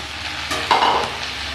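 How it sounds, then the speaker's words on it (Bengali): Prawns and chopped ridge gourd go into a hot pan, setting off a burst of close sizzling and frying with a short stirring scrape, then a steady hiss that continues to the end. "এবার দিয়ে দেব চিংড়ি মাছগুলো। একই সাথে কেটে রাখা ঝিঙেও দিয়ে দিচ্ছি।"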